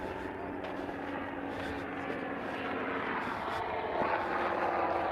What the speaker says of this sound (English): That's a chopper.